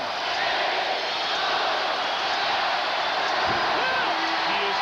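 Arena crowd at a 1996 Western Conference Finals game between Karl Malone's Utah Jazz and the Seattle SuperSonics, a loud, dense, continuous roar filling the space, with a voice breaking through briefly near the end.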